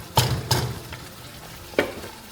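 Masala gently frying over a low flame in a pan, a soft continuous sizzle broken by three close spatula scrapes and knocks against the pan.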